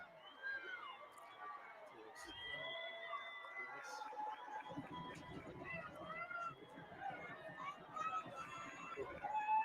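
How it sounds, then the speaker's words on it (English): High school football crowd in the stands at a Fairview game, a steady, moderately distant roar of cheering and crowd babble that builds slightly, with a commentator talking over it. "The Fairview crowd is up and cheering on the Jackets here."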